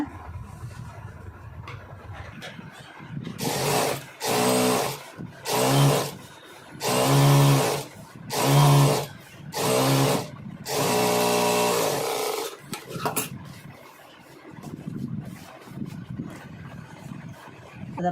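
A sewing machine stitches contrast piping in about six short bursts of fast, loud mechanical whirring, separated by brief pauses, with quiet handling sounds before and after.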